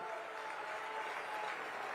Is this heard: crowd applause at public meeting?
yes